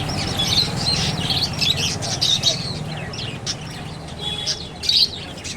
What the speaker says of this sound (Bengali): তোমরাও দেখতে পাবে পাখি খুব সুন্দর